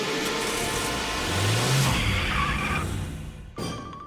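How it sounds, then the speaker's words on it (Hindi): A cartoon car engine revs and drives off, a steady mid-pitched motor drone that swells, then cuts abruptly near the end. "मैं गाड़ी निकालता हूँ।"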